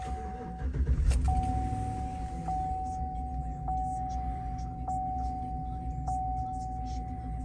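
A white 2011 Chevrolet Silverado 1500 LT Crew Cab with 99,000 miles cranks and settles into a low, steady idle, while a warning chime repeats at regular intervals over the rumble.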